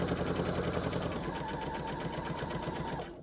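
A sewing machine stitches fabric while chain piecing a quilt, giving a fast, steady mechanical whir close by that runs evenly and then stops at the end.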